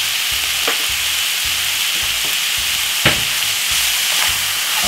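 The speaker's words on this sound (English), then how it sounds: "And brown up your meat" Meat browning in a pan for a Jamaican-style bolognese, a loud steady sizzle and fry with regular scraping stirs against the pan, close up and without speech.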